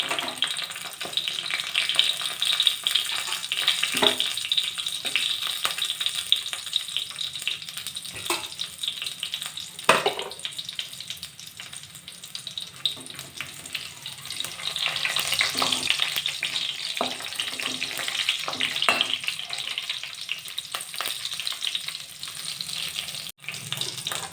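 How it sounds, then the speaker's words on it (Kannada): Dry red chillies frying in hot oil give a continuous bright crackling sizzle, close and steady, with occasional clinks and stirring sounds, and no speech. "ಎಣ್ಣೆ ಕಾದಿದೆ ಈಗ ಒಣಮೆಣಸಿನ್ಕಾಯಿ ಸ್ವಲ್ಪ ಹಾಕ್ತಿದ್ದೀನಿ"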